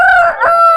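A rooster crows loudly and close by at a long-established chicken market in Paramathi Velur, one strong drawn-out call with a brief dip in the middle.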